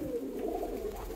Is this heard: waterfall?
no